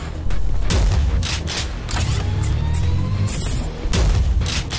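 Gunshots in the video game Prodeus ring out as a series of loud booming blasts spaced through the clip, with mechanical clanks and creaks between them and a low rumbling bed underneath.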